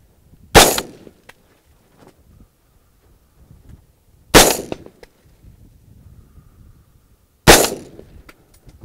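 Three sharp, loud rifle shots from an AR-15 fired offhand at a target roughly 300 yards away, spaced a few seconds apart, each a crisp crack with a short decaying tail in an otherwise quiet outdoor setting.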